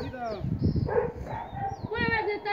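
A dog barks, yips and whimpers repeatedly at close range while several people talk loudly over it.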